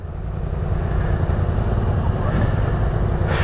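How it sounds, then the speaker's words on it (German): Suzuki King Quad ATV engine running continuously on an off-road trial course, a low steady rumble with fairly loud outdoor noise, as a voice talks over it. "Ah, hier die schöne King Quad Suzuki."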